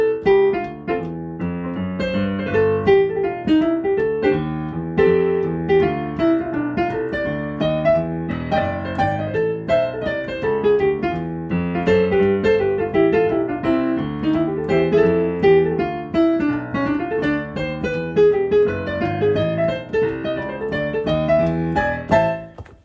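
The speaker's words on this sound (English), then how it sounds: "So jazz kind of sounds like this." Jazz chords played in a progression on a tune, with a steady walking bass line moving underneath; dense, continuous harmonic music at even loudness throughout, no talking.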